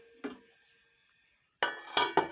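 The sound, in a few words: lid placed on a cooking pot of chicken curry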